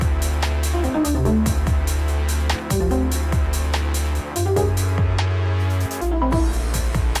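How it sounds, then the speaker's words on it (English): A Dirtywave M8 Tracker plays through an Octatrack performance mixer: a loud, punchy electronic pattern of rhythmic kicks and percussion under a deep sustained bassline and bright synth notes, continuous and without talk. "the M8 Tracker is sending its audio into my Octatrack"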